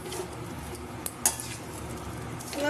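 A spoon scrapes and stirs a crumbly, dry mixture in a pan, a steady soft rustle broken by a couple of sharp metallic clinks, with no talking.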